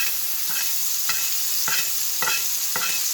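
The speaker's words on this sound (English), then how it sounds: "now we're going to add some butter and some rosemary, a little more oil, about a tablespoon, some garlic" A burger patty basted with butter, rosemary and garlic in a hot pan, with a constant close sizzle of fat and about five evenly spaced scraping strokes of a spoon, and no voices.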